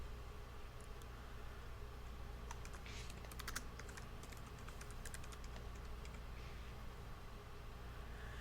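Keys clatter on a computer keyboard while HTML code is typed, a few quick bursts of close clicks over a steady low hum, with no talking.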